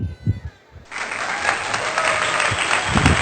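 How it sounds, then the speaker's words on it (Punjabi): Family members in a village near Amritsar break into loud, dense, sustained clapping after a boy's bicycle stunts, the applause starting abruptly just after a short stretch of talk. "ਸਾਡੇ ਪਰਿਵਾਰਕ ਮੈਂਬਰ ਖੂਬ ਤਾੜੀਆਂ ਵਜਾ ਰਹੇ ਆ"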